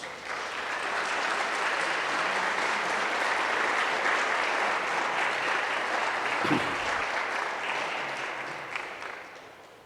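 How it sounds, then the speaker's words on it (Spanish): A church audience gives God a round of applause, loud and sustained clapping from a large crowd that swells, holds for several seconds, then gradually softens. "¿Le puedes dar un aplauso a Dios?"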